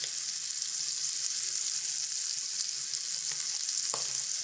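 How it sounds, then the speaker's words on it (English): Steak is stirred around in a hot pan with a steady, bright sizzle, close and constant, plus a faint scrape or two near the end. "I'll sprinkle it into the pan, and I'll mix the steak around in it"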